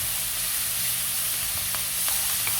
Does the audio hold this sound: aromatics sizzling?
yes